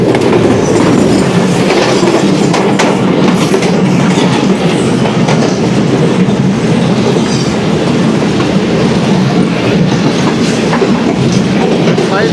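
A Pakistan Express passenger train passes close by, loud steady clickety-clack of wheels over rail joints with rumbling carriages, continuous for the whole stretch.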